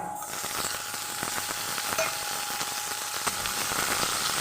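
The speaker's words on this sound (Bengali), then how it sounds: "এবার আমি কিন্তু মাংসের পিসটা দিয়ে দেবো পেঁয়াজটার মধ্যে" Chicken pieces frying in a pan with browned onions, a continuous even sizzle with occasional stirring clicks, close and fairly quiet.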